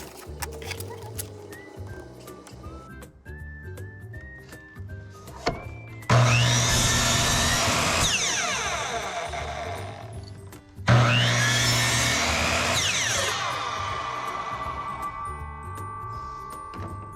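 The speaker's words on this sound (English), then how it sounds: "Use the miter saw and cut a good 45 on each end" A miter saw crosscuts 45-degree angles in wood for the sides of a floor game table, two loud whining cuts of about four to five seconds each that gradually fade. Quieter clicks and handling noises come before them.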